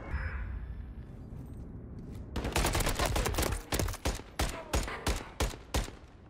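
An opponent fires in an online one-on-one shooter match: a dense burst of gunfire, then a string of separate sharp shots at a steady pace, loud and close, with no speech.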